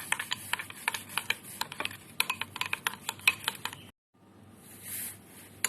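Whisk or spoon stirring cream cheese with a few drops of vanilla essence in a bowl, a close run of quick rhythmic clinks and scrapes against the bowl, then a brief pause and a softer swish.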